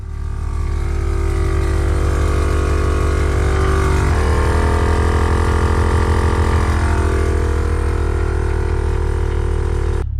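An air compressor fills the air suspension tank on a VR6 Jetta wagon, running as a loud, steady motor drone throughout, with a pitch shift partway through and no talking.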